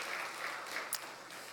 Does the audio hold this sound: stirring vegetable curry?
no